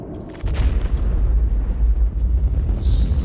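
A deep explosion in the video game Metro 2033 Redux, set during a frantic defence against monsters: a sudden heavy boom hits after a short quiet lead-in, then a loud, sustained low rumble rolls on without fading, with no talking.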